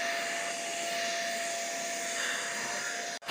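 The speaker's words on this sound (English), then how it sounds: "the dust will enter the vacuum cleaner so that the carpet becomes clean and comfortable" A vacuum cleaner runs steadily while cleaning a carpet, giving a constant broadband whooshing roar with a thin whine on top, then a brief dropout near the end.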